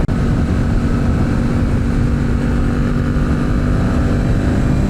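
A BMW S 1000 RR motorcycle engine, ridden without an exhaust, drones as a loud, steady, close mechanical hum with no gaps, heard alone without any talk.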